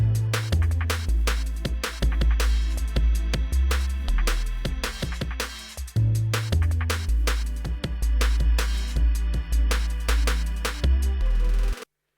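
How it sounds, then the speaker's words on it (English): A simple sine-wave bass line booms in stepped low notes alongside punchy kicks in a steady electronic groove, loud and upfront for about twelve seconds before cutting off abruptly. "Now this is a very simple kind of sine wave type bass."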